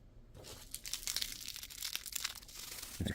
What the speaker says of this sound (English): Then we'll open this up. Then it's got a foil cover to it.